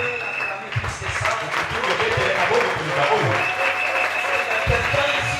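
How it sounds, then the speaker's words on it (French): A church congregation applauds to acclaim the Lord, sustained clapping filling the room while a preacher's voice speaks over it. "On peut acclamer le Seigneur. Parce que tu peux l'acclamer plus que ça."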